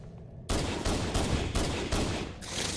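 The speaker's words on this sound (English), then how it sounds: "I'm only using my pistol now, Dylan." Rapid bursts of pistol gunfire in the Halo video game on Xbox One, a dense run of about five sharp, loud shots in close succession after a brief quiet start.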